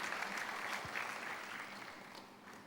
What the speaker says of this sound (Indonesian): lalu yuk tepuk tangan